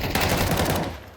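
Video game gunfire, a loud, close rapid burst of shots rattling in quick succession for about a second before cutting off.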